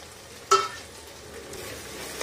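Mung and masoor dal stirred in spiced oil in a pan for winter veg khichdi: one sharp scrape of the spoon, then a low, steady sizzle, close and without talk.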